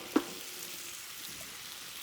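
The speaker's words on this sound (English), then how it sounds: "putting down a little more oil. I'm going to get my zucchini and onion down." Zucchini and onion fry in oil on a Blackstone griddle, giving a soft, steady sizzle with one small pop near the start, faint and without talk.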